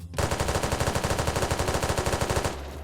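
A C7 rifle in the game SCP: Site Roleplay firing one rapid sustained burst of roughly two dozen evenly spaced shots, loud and close, lasting a little over two seconds, then cutting off abruptly.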